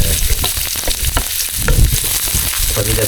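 Ginger frying in hot oil until golden brown, a dense crackling sizzle with scraping stirs throughout, loud and close with no talking.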